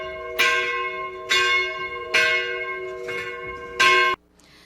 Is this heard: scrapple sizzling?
no